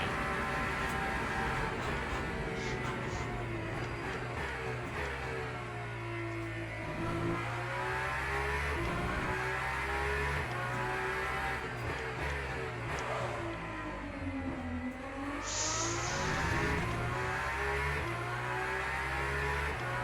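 A Hypercar race car engine in Le Mans Ultimate drones steadily, its pitch rising and falling through gear changes and throttle lifts, with a brief high whine near the end and no talk.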